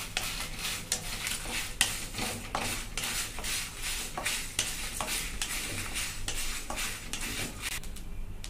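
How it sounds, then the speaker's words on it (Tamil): Black pepper and dried red chillies fry in a pan, with continuous sizzling and dry rattling as a utensil stirs and scrapes the metal in a steady rhythm. "காஞ்ச மிளகாயில் ஒரு அஞ்சு மிளகாய் எடுத்துட்டு மீதியை இது கூடவே போட்டு ஃப்ரை பண்ணிக்கலாம்"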